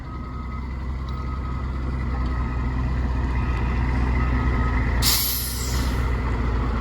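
A ten-wheeler truck idles and rumbles nearby with a low steady engine drone, then a sharp hiss of air brakes releasing near the end that fades quickly.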